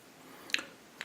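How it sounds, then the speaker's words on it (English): Two quiet, crisp snips of old scissors cutting through a stiff wire dubbing brush for fly tying, spaced about half a second apart, over faint background hiss. "I'm going to take some old scissors and cut this dubbing brush."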